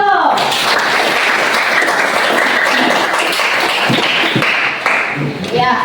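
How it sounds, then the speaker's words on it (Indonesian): Classroom applause from a group of students, a dense steady patter of many hands clapping close by that carries on for several seconds before thinning out near the end. "Beri aplaus dulu."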